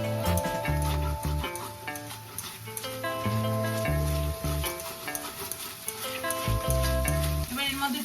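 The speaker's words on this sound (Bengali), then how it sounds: "খুব ভালো করে নাড়তে হবে খুন্তির সাহায্যে।" A spatula stirs ginger-chili paste around a hot frying pan for a restaurant-style paneer curry, the paste sizzling and frying steadily with scraping strokes over low background music.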